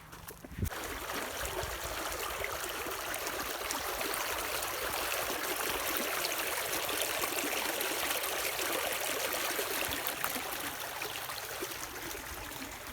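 Water gushes steadily from a small pipe into a cultivated paddy field, a continuous close-up rushing and splashing that holds at an even level throughout.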